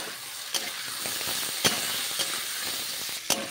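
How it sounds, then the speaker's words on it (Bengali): Papaya pieces frying with salt and turmeric in a pan, a steady soft sizzle with occasional sharp spatula clicks against the pan, close and fairly quiet with no talk. "এ ভালো করে পেঁপেটা আমি ভেজে নেব।"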